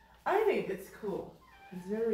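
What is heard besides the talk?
cat meowing in the background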